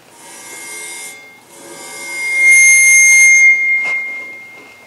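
A metal Chladni plate is bowed until it sings: scraping bow strokes build into a bright sustained ringing tone that swells loudest near the middle, then a short rasp cuts through before it fades.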